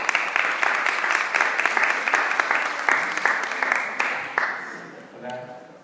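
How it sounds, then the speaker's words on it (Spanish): Audience at an academic event applauds student presenters, a burst of brisk clapping that tapers off over several seconds before a voice begins. "Así que démosles un fuerte aplauso para empezar."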